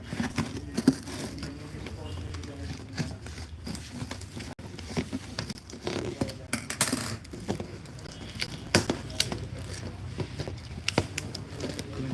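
Paper raffle draw slips being cut open during a live prize draw, with scattered crinkling, rustling and snipping sounds close by, while people talk throughout.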